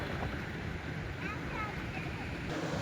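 The Janivi river near Nanu village on the rain-soaked Madhyamaheshwar trek, a constant broadband rush of cold flowing water close by, with a faint voice briefly audible under the steady wash.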